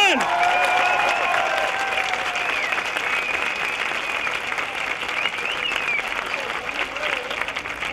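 Sustained applause from a large outdoor crowd gathered in a city square during a satirical street performance, dense and steady throughout with scattered whistles and shouts mixed in.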